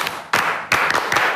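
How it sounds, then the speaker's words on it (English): A small group claps for themselves in a few quick, sharp bursts, close and loud with brief gaps between them. "Clap for yourselves. I love the way they clap."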